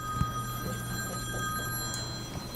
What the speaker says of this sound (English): I am on call, and that's the same ringtone as the on-call phone.